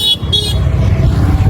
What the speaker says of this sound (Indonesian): klakson di mana-mana